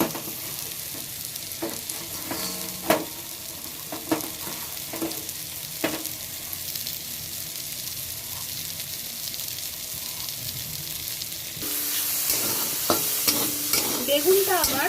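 Brinjal, cooked with crushed neem leaves, sizzles steadily in a pan while a spatula scrapes and stirs it in irregular knocks; the frying grows louder and brighter near the end.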